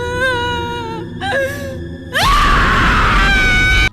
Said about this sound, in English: The lights in the house go out and they get exactly what they asked for as Alice's crying spirit appears.